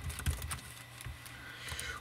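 Computer keyboard typing a short command into a chat box while playing a prison game, with a few scattered key clicks that sound close and fairly quiet over a low steady background.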